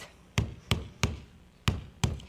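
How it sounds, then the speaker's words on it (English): A knife blade knocks on a nut shell in five sharp, close taps spaced unevenly about a third of a second apart, each crisp and percussive against a quiet background. "you just like knocking on the nut"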